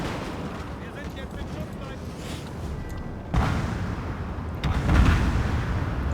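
Musket volleys and artillery fire in the Napoleon: Total War video game, in a Prussian campaign battle: a dense, rumbling battle din with heavier booming bursts at intervals, loud and continuous.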